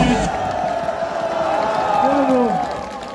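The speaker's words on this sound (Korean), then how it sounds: "시민 여러분, 큰 함성과 박수를 보내주시기 바랍니다." A crowd at a political campaign rally cheers and applauds, a broad sustained roar of voices and clapping with shouted calls rising above it.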